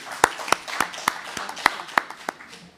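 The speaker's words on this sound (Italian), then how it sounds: "Un applauso" A small press-conference audience claps for an interpreter: about nine distinct, evenly spaced hand claps ringing out in a sparse, quiet room.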